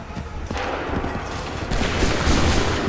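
Musket volleys of gunfire in Assassin's Creed III, a dense crackle of overlapping shots with booming bursts that swell louder in the second half, continuous and close.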